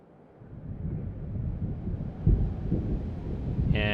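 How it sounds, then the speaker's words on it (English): A perpetual storm ambience in the video game Myst III: Exile: a low, steady rumbling roar like distant wind that slowly swells, with a brief tonal chime right at the end. "And that's the sound of a perpetual storm on the rise that never seems to get here."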